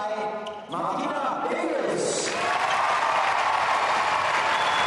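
A tennis crowd at the 2006 Zurich Open applauds to welcome Martina Hingis, a steady wash of clapping that swells after a brief pause, with a commentator's voice over it.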